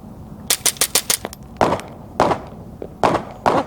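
A suppressed Ruger MKIII .22lr pistol with a SilencerCo Sparrow suppressor fires close by, first a quick rhythmic string of five sharp shots, then four more spaced single reports.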